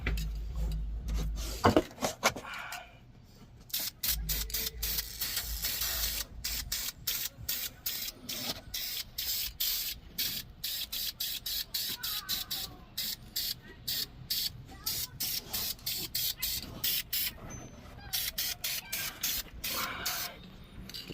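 An aerosol can sprays rust- and corrosion-resistant coating onto Toyota Tacoma pinch welds in long steady hisses, broken by many brief stops and restarts, close by and fairly loud, with faint rubbing and clatter between bursts.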